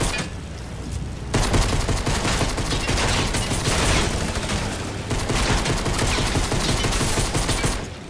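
Rapid gunfire from a Fortnite match, loud and close, with a dense burst of shots that starts sharply after about a second and keeps going with only brief dips for most of the clip.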